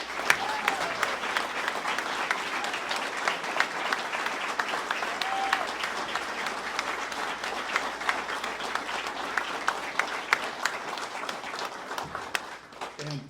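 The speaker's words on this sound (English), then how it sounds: "how about one more rousing round of applause for some of the best that our community has ever produced" Audience at a school athletics hall of fame ceremony in a hall applauds loudly and continuously, with dense clapping holding steady throughout.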